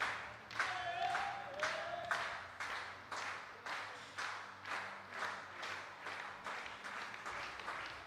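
A crowd at the Lima 2023 para shooting world championship, men's 10m air rifle standing SH1 final, claps in a steady rhythmic beat that carries on throughout at moderate loudness.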